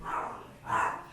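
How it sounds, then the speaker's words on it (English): A dog barks twice during a city council meeting, two muffled, fairly distant barks spaced about half a second apart in a quiet room. "Is that a dog?"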